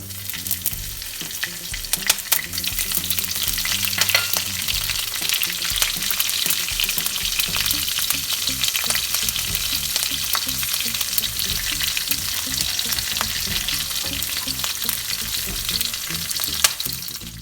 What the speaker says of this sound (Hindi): फिर मैं कड़ी लीव्स और ये हरी मिर्ची जो मैंने काट के रखा उसे डालूंगी।